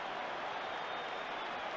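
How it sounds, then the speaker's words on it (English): Faint, steady applause from a large stadium crowd after the final whistle of a football cup final, a distant wash of clapping with no distinct individual claps. "So there's the applause around the stadium"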